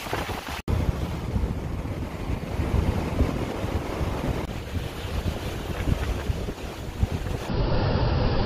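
Wind buffets the microphone while waves wash steadily onto the Lake Superior shore at Park Point in Duluth in December, a constant, loud rushing roar with no voices.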